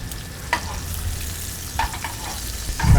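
Butter sizzling in a hot pan with steak, thyme and smashed garlic, a steady close hiss broken by a few sharp spatters and a louder burst at the end.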